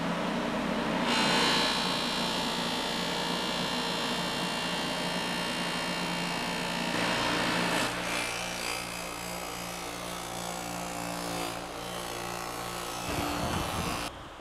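A motorized buffing wheel polishes stainless trim from a 1968 Mustang California Special using jeweler's rouge, a steady loud whirring hum with rubbing friction throughout, the pitch shifting slightly partway through and winding down near the end.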